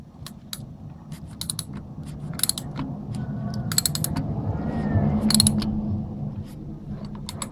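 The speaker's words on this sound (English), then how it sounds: "I'm just gonna put my tool back on there, tighten it a little bit." A ratchet wrench tightening a bolt during an oil change on a Honda VTX 1300R motorcycle, several short bursts of rapid close clicking separated by pauses, with faint metallic creaks between.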